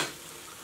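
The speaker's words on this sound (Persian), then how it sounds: "از خمیر بر میدارید و درون روغن سرخ میکنید." Spoonfuls of dough frying in hot oil for Bandar Abbas style luqaimat, a soft steady sizzle and hiss heard close and faint, with no voices.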